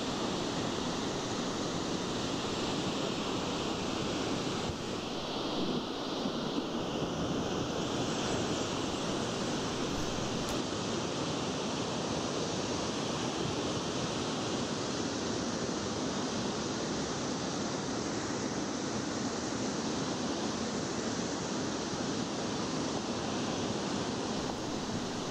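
Ithaca Falls in winter, a heavy flow of water pouring over the icy waterfall, producing a steady, loud, unbroken roar for the whole stretch with no voices.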